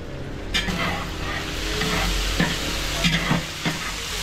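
Meat with salt grilling in a pan sizzles and fries steadily while a utensil stirs it, with several scraping knocks against the pan over the loud, continuous hiss.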